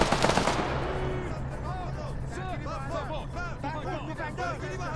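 Rapid bursts of gunfire from a firing squad inside a survival video game, an opening volley followed by a babble of chattering voices and scattered shots.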